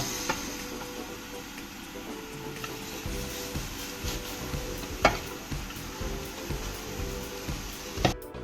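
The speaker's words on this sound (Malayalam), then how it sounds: "ഒരു പാൻ വെച്ചതിന് ശേഷം കുറച്ച് വാഴക്കൂമ്പിടുക" Chopped banana flower fries in a pan for a Kerala thoran, a steady close sizzle with occasional stirring scrapes and a couple of louder knocks against the pan.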